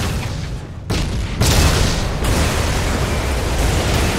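Battle noise from the WWII strategy game Codename Panzer at El Alamein: dense, continuous booming explosions and gunfire rumbling at steady loudness, with sharper bursts and pops layered over a constant roar.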